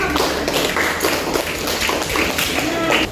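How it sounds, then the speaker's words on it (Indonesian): A classroom full of people claps in a dense, continuous patter, loud and close, with voices mixed in under the applause. "tepuk tangan dulu bagi semua dulu"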